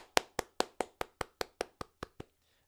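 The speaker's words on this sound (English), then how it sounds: "Round of applause." About ten evenly spaced, crisp hand claps ring out one after another at a steady rhythm, close and clear, with nothing else underneath, before stopping abruptly.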